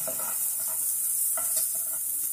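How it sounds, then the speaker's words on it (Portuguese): Onions frying in a pan give a steady, close sizzle with soft stirring scrapes and taps throughout. No one speaks. "a cebola fritando"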